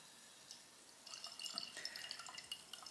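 Mountain Dew Game Fuel Championship Citrus Cherry soda is poured from a can, starting faint and swelling into a close, fizzy patter of bubbles and light splashing that lasts a couple of seconds without talk.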